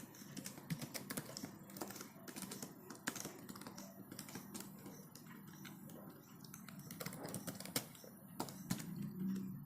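C program code being typed on a computer keyboard gives quiet, irregular key clicks in quick bursts with short pauses between them, close by and with no speech over them.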